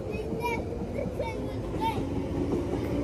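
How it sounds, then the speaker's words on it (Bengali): A departing train gives a steady, close rumble and rolling clatter throughout, with adults and someone talking over the continuous noise. "এই ট্রেন যাচ্ছে"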